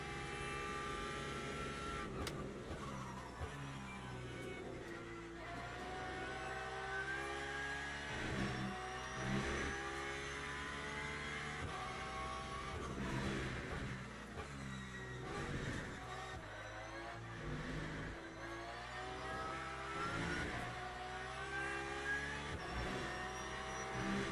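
A Ferrari race car engine in the Le Mans Ultimate sim racing game, a sustained high-pitched whine that rises and falls through gear shifts as it accelerates and brakes around the lap, steady and continuous with no voices.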